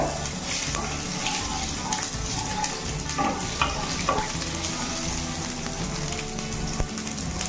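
Garlic and green chilies fry in hot oil in a pan for a lentil and drumstick-leaf dalma, giving a loud, continuous close sizzle with scattered crackles and occasional stirring scrapes.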